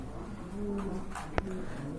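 Pigeons in a crowded collection of cages give soft, low cooing close by, with a faint continuous background murmur and a brief sharp click near the end.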